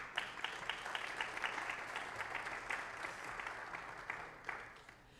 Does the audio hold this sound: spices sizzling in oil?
no